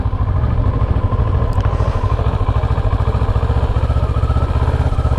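A Kawasaki ER-6n 2012 motorcycle on its stock exhaust idles close by with a steady, deep, throbbing parallel-twin pulse and a light blip of throttle, loud and continuous with no talk over it.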